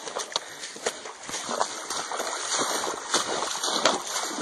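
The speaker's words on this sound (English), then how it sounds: "Stream crossing. Crossing Seneca Creek here. This is the way trail runners do it." A trail runner at a 50K race in the West Virginia mountains splashes through the Seneca Creek stream crossing, with close, continuous churning water and repeated sharp footfall splashes in an irregular rhythm, with no voices.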